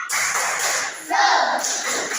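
Classroom children perform a rhythmic spirit clap, a quick run of sharp claps in a steady pattern, close and bright, with children's voices mixed in.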